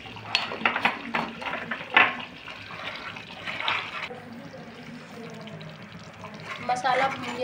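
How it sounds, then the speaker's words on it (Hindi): A spoon scrapes and clinks in a pan as masala with Kashmiri red chilli is stirred and roasted, with intermittent sharp metallic knocks and a soft sizzle, close and moderately loud. "मसाला भून गया है अच्छे से, मैंने इसको भून लिया था।"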